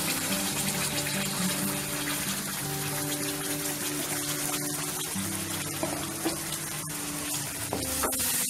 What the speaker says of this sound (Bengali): আমি এবার এর মধ্যে যে মাখনি গ্রেভিটা বানিয়ে রেখেছিলাম ওইটা দিয়ে দেব